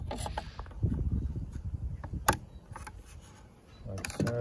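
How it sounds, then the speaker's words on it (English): Plastic clips are released beneath a Ford Focus Mk2 facelift wing mirror, giving a few close, quiet clicks and creaks with a sharper snap partway through, among soft handling noise. "Now I'm just going to remove the mirror by removing these clips under here."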